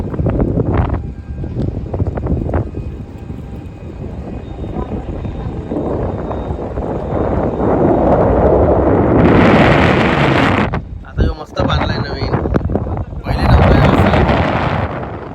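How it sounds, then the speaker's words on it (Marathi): Strong wind buffets the microphone outdoors beside water, a loud, continuous roar with gusty surges and brief dips, while people talk at times underneath. "वारा तर काय बोलत नका एवढा आहे बेकार"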